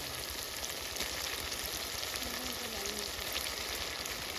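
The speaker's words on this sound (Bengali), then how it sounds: "এখন আমি মাংসগুলো ছেড়ে দেবো।" Chicken pieces fry in spiced oil, giving a dense, even sizzle and crackle that holds steady for a few seconds, close and fairly quiet, with no voices.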